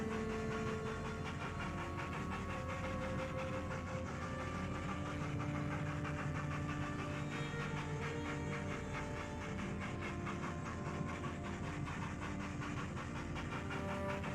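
Model railway engine running by itself, a steady continuous mechanical drone with hissing and rhythmic rattling, alone at even loudness throughout with no talk.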